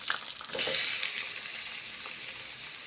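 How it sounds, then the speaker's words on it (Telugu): Tomatoes drop into hot oil in a kadai and sizzle sharply. A loud burst of frying comes near the start, then settles into a softer, steady crackle with occasional stirring. "బాండీలోనే ఇంకొక టేబుల్ స్పూన్ ఆయిల్ వేసి ఆ టమాటాలను ఆయిల్లోకి వేసి టమాటాలు బాగా మగ్గనివ్వండి."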